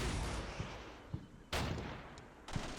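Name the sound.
LAW rockets being fired in a video game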